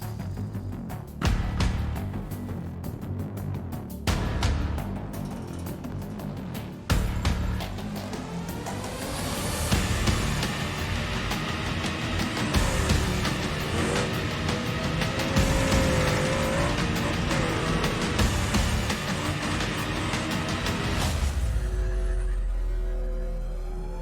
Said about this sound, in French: Donc ce véhicule c'est le premier trophy truck de BeamNG Drive.